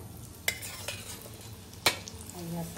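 Chana and garlic fry in a pan, Koliwada style, a steady close sizzle that fills the clip, with two sharp metallic clinks of a utensil against the pan and no talking.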